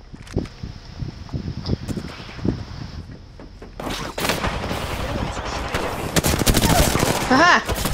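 Rapid bursts of automatic gunfire and sharp shots in the Apex Legends battle royale game, sparse at first then dense and continuous in the second half, close and loud with a player's voice talking over it.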